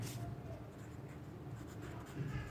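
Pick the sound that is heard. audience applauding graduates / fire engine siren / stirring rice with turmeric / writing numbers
writing numbers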